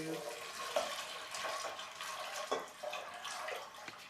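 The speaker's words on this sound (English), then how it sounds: "Then I'm just going to add water" Water pours from a tap into a pot of dried beans to cover them, a soft steady splashing heard close and fairly quiet in a kitchen.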